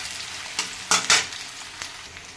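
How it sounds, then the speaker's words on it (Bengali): Chopped onions lightly frying in a pan, a close, steady hiss broken by a few brief bursts of louder sizzling and stirring. "পেঁয়াজটাকে একটু ভাজা ভাজা করবো"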